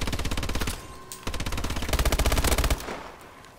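Automatic gunfire in Call of Duty: Advanced Warfare, Exo Last Man Standing mode, with rapid machine-gun bursts in a tight rhythm, loud and close, broken by a brief pause before a longer, denser volley.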